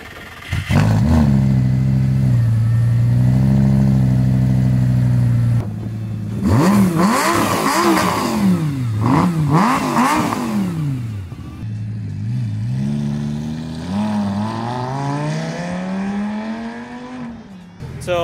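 A Lamborghini engine revs hard and accelerates loudly and close, with rising and falling harmonic sweeps through several bursts over about eighteen seconds, the roar rarely letting up.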